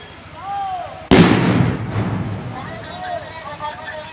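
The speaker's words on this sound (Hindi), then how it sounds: "लगातार बम गिराए जा रहे हैं" A civil defence air raid drill sets off a simulated bomb blast, one sudden loud bang that rolls off into a long rumbling decay, with a voice talking before and after it.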